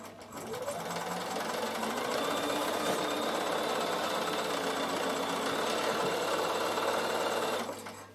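A Bernina sewing machine runs a straight stitch through wool felt, a fast, steady mechanical whir close by that starts and stops cleanly over several seconds.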